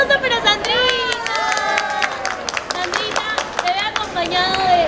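People at an airport clapping and cheering in a lively cluster, with excited voices and shouts layered over scattered hand claps, fairly close and continuous.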